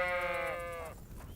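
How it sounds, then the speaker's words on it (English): A sheep in the medieval video game Kingdom Come: Deliverance II gives a single drawn-out bleat that fades after about a second, with a faint background ambience. "Sheep."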